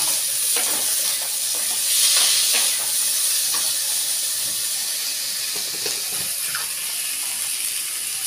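Soaked kabuli chickpeas tipped into a hot wok (kadai), a loud steady hiss of steam and sizzling with scattered rattling clicks as the chickpeas hit and shift in the pan.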